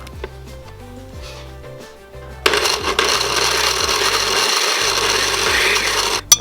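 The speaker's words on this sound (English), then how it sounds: "I'm just gonna blend this until it's nicely grind and" A kitchen blender minces smoked beef with tomatoes and herbs. After a quieter opening, the motor kicks in with a loud, steady grinding whir that runs for several seconds and ends with a short final burst.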